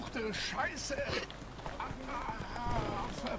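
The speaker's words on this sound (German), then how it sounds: "Fang das ausgerissene Pferd ein." Rhythmic hoof clip-clop of a horse in The Witcher 3: Wild Hunt mingles with game music and voices talking, the steps steady and fairly close throughout.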